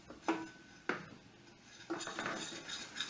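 Macaroni and cheese mixture being stirred in a pan, with a few distinct metallic clinks of utensil against pan at an unhurried pace, quiet and close, followed by softer scraping.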